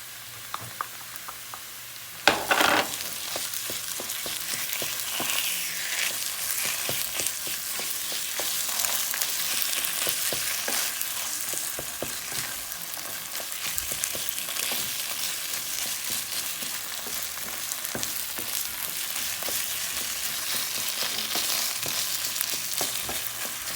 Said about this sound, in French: Maintenant, on va rajouter les pâtes tomates. Et on va faire revenir avec l'oignon.